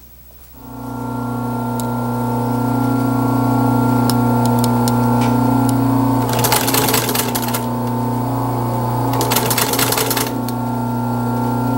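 Electric sewing machine running steadily and loud throughout, stitching striped upholstery fabric for a 1930s drop-in chair seat, with two bursts of faster, rattling stitching partway through and no talking.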